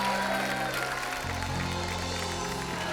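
Studio audience applause welcoming Deepika Padukone, announced from the film Gehraiyaan on The Kapil Sharma Show; a steady wash of clapping with a music bed underneath, filling the full three seconds at an even level.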